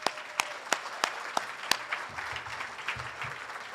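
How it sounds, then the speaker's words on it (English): Light audience applause at the Michigan Journalism Hall of Fame induction ceremony, a few distinct sharp claps standing out over a soft, fairly quiet patter that fades gradually. "If we could give him a round of applause too,"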